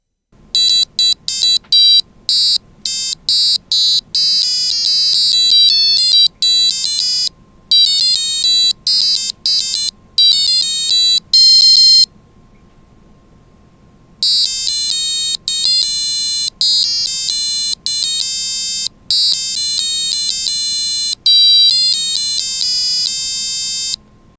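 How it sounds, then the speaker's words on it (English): A W65C265S microcontroller's tone generator plays two short MIDI sequences of bright, beeping square-wave notes in quick runs, separated by a brief pause, loud and alone with no voices. "replay the two songs, the two little MIDI sequences here"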